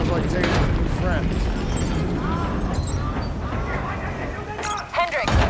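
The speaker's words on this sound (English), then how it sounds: "we have multiple explosions across the facility" Dense, continuous rumble of explosions and heavy battle noise in a Call of Duty: Black Ops 3 cutscene, voices shouting over the top, loud throughout and thickening near the end.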